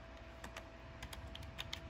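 Quiet, steady typing on a Logitech K480 Bluetooth keyboard, with soft irregular key clicks close by and no voices.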